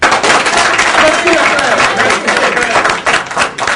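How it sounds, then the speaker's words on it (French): Applause from an audience at a municipal campaign fundraiser in Tiéningboué, loud, dense and sustained throughout, with crowd voices mixed in. "Il faut les applaudir."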